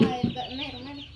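A rooster in a rural yard gives a couple of short clucks, close by and brief, with a voice speaking at the same moment.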